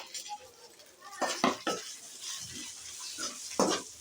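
Fried okra (bendakaya) being stirred in a pan, quiet sizzling under a few clustered scraping and clinking strokes of the spoon against the metal, close up with no talk.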